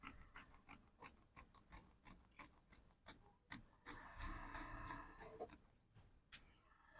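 Scissors snip through fabric for a shirt dress in a steady series of crisp cuts, close and clear, briefly turning to softer rustling and sliding before a few final snips, with no voices.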